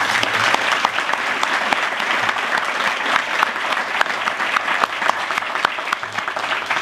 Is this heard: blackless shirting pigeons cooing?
no